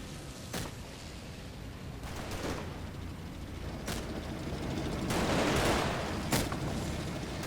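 Gunfire from the Combat Mission Battle for Normandy video game, including a single shot striking close by. Sharp shots and short bursts crack over a steady rumble of distant fire, with a dense volley swelling near the end.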